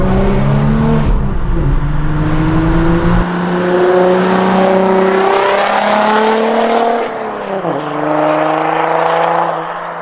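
A diesel Nissan GTR fitted with a new exhaust drives along a dual carriageway, its loud engine droning and rising steadily through the gears, close and continuous with no talk.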